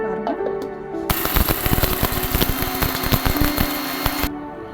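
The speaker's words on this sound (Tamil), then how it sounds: "இப்போ இந்த மசாலா அரைக்க போகிறோங்க. மிளகு, ஜீரகம்லாம் அரைக்க போகிறோம்." A mixer grinder roars into action, grinding peppercorns and cumin with harsh rattling bursts for a few seconds before switching off; a faint hum precedes it.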